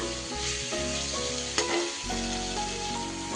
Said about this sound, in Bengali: মশলার সাথেই কিন্তু চিংড়ি মাছগুলো আমার ভাজাও হচ্ছে আর সেই সাথে কষাও হচ্ছে।